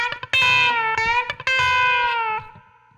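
An electric guitar plays a chicken pickin' lick with sharp snapped plucks and two long bent notes that rise and ring, twangy and close, trailing off at the end with no voice.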